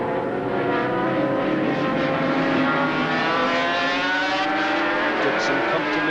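Norton rotary and Suzuki racing motorcycles in a race, their engines forming a loud, continuous droning whine with a gradually shifting pitch as the bikes run together.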